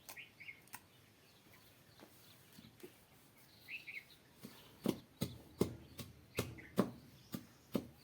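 Sparrows chirp in a series of sharp, repeated calls that grow louder and more regular toward the end, over a quiet background in a home kitchen.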